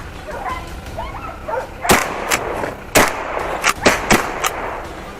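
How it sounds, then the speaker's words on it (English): Several sharp gunshots ring out while hunting wild boar in a snowy forest, some nearer and some farther, loud cracks spaced irregularly over a faint background with birdsong. "a shot was fired instantly"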